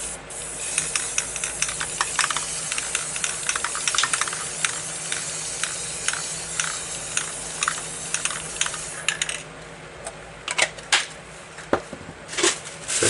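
Aerosol spray paint cans hiss in short repeated bursts as blue and then green paint is sprayed for planet-style spray paint art, the bursts closer together at first and then sparser near the end.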